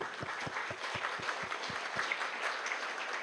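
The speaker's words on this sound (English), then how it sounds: "Round of applause." Audience applause welcoming a speaker at a social equity and justice gathering in New York, a run of distinct claps with steadier clapping behind, tapering off after about two seconds.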